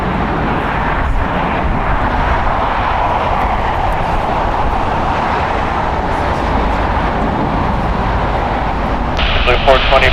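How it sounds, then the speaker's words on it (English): A 16-year-old Airbus A320 departs LAX, its engines making a steady, loud, broadband roar that holds for the whole stretch and rises slightly near the end. "It's an Airbus A320, 16 years old."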